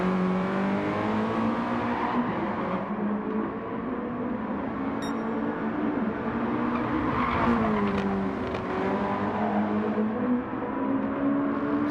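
Race cars at full throttle on the Brands Hatch circuit, a steady loud engine drone with shifting pitch and brief tyre squeal, several cars sounding together throughout, no talk.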